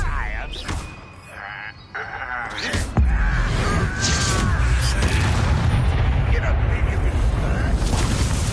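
A Depulso force spell from the game Hogwarts Legacy goes off in a heavy booming blast, followed by a sustained loud rumbling roar amid spell-combat effects.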